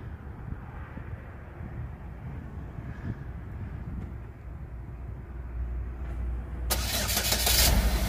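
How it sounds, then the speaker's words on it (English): A 2011 Chevrolet Equinox is started by remote: steady low idle-like rumble, then a loud broadband burst as the engine cranks and catches near the end, heard close with no talking. "All you do is make sure it's locked up and hold the remote start button right there."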